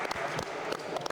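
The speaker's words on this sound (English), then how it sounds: "can you give me a round of applause, please," An audience applauds, a short stretch of dense, steady clapping at moderate volume with a few sharper individual claps standing out.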